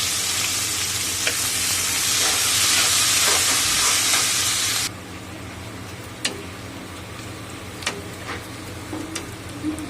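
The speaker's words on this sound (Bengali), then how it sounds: "এবারে এই তেলে আমি পেঁয়াজ দেব।" Onions dropped into hot oil sizzle loudly and densely at first, then the frying settles into a quieter crackle with scattered pops and stirring clicks, close and without talk.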